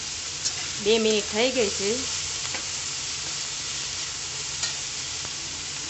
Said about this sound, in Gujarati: હવે આ બધું 2 મિનિટ સુધી સાતળવા દઈએ।